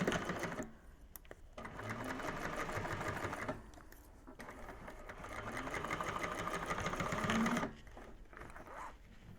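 Sewing machine topstitching through a bag gusset panel, running in several bursts of rapid needle chatter separated by brief pauses, close and clear.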